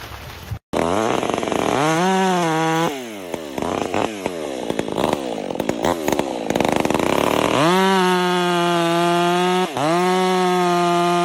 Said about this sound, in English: The sharp blade roars, slicing the thick log into evenly sized sections